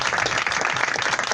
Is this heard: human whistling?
no